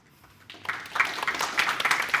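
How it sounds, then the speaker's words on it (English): Conference audience at a data science festival applauding a speaker's talk on online machine learning: after a near-silent half second, a dense patter of clapping swells in and carries on steadily at moderate loudness. "if you're going to clap"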